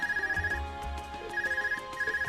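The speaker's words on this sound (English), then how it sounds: "Is that your Arcus ringing?" An Arcus communication device rings in the video game The Legend of Heroes: Trails of Cold Steel, a repeating electronic trill in two clear bursts separated by a short pause.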